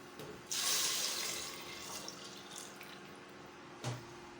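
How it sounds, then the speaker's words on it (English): Water pours from a tap into a cooking pot of palm fruit soup base for about a second, followed by a few small splashes and a brief drip. "then I'll be adding in some water"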